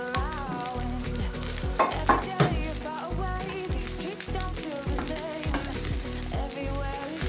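Rice for a vegetable rice dish is stirred into a hot frying pan, with rhythmic spatula scrapes and pushes over a constant close sizzle of frying.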